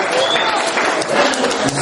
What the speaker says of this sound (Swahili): Mwakaribishe kwa makofi